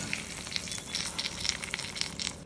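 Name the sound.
garlic sizzling in ghee tempering for marigold rasam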